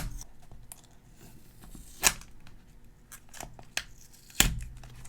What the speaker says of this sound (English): we'll go ahead and remove the sticker here